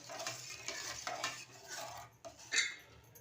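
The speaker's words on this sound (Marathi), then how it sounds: "परत एकदा ढवळून घ्यायचं आहे" A spoon stirs dal khichdi in a pot after water and salt have been added, giving soft repeated scraping and swishing strokes at close range, with a brighter clink of metal near the end and no talking.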